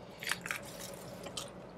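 A few short, crisp crunches of teeth biting into crunchy fried chicken from Gus's World Famous Fried Chicken, quiet and close, followed by faint chewing.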